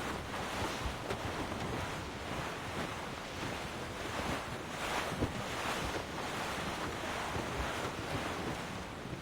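Wind and ocean waves at sea in Assassin's Creed Rogue make a steady, loud rush with rolling surges of surf and gusts buffeting throughout, with no voices.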